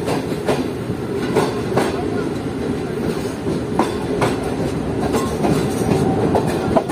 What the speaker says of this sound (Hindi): और ये समन सरकार प्लस मारवी पैसेंजर का रेक यहाँ पर मौजूद है जो कि अभी आया है खोखरो पार से